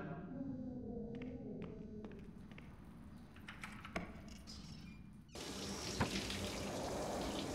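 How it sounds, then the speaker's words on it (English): Shower water runs in a bathroom in the game Three Minutes to Eight: a quiet steady hiss with a few faint clicks and knocks, then the flow grows louder and fuller toward the end. "you hear running water coming from the bathroom. Someone is taking a shower"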